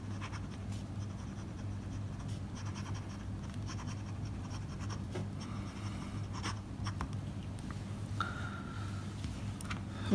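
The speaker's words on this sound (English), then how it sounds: "You get some feedback when you write onto the paper." A Parker Odyssey black lacquer gold trim fountain pen nib scratches steadily across paper, producing a continuous close, faint scratchy writing sound with slight feedback and small strokes, over a low hum and with no voices.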